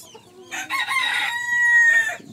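A Golden Sebright rooster crows loudly and close, one drawn-out call with clucking chickens around it in a short burst.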